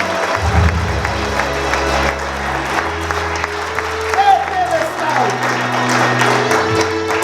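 A church congregation claps along during worship under sustained music, the hand claps blending into a loud mixed roar with voices present.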